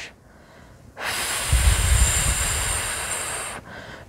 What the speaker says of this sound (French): j'expire par la bouche